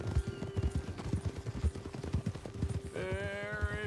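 Horse hooves clip-clop steadily and up close in the Red Dead Redemption 2 video game, a dense trotting rhythm with a horse whinny rising near the end over a low hum.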